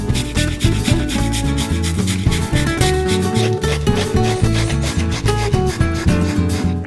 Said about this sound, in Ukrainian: я до нього додаю цибулю, часник, натираю їх на терку